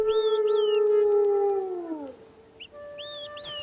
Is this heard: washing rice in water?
no